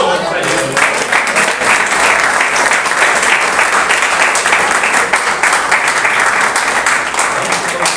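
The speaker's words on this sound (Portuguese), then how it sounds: "dê uma boa salva de palmas para Jesus" Loud, continuous applause from a church congregation during a worship service, steady dense clapping with crowd noise that holds at full strength throughout, with no voice speaking over it.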